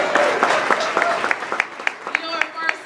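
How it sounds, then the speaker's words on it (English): Applause for a community collaborative at a restaurant opening in Ward 8, scattered and moderately loud, with distinct individual claps standing out and a voice talking over it. "Give them a big round of applause."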